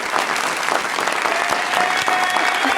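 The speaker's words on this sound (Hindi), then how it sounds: "तालियां।" Studio audience on a television talk show breaks into loud, sustained applause, a dense wash of clapping that carries steadily from start to finish with no one speaking over it.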